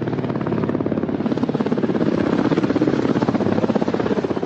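A Mi-28 or Ka-50 combat helicopter flies close by, its rotor chopping in a fast, steady rhythm over a loud, continuous turbine roar that holds constant throughout.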